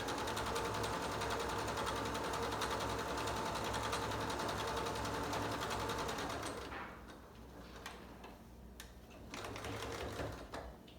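A sewing machine hums in a fast, steady run while stitching the top edge of a handmade fabric mask, then stops and gives way to quieter clicks and handling noises.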